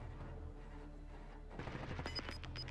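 Gunfire in Call of Duty Warzone: quiet ambience, then from about the halfway point a quick burst of several sharp shots in rapid succession, fairly faint.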